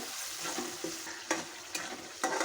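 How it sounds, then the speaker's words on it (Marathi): Ground spice paste sautéing in oil for a dried Bombay duck and potato curry, a close sizzle broken by several sharp spatula scrapes and stirs against the pan. "आता आपण त्याच्यात वाटण टाकायचं मसाला चांगला परतून घ्यायचा आधी तेल सुटेपर्यंत"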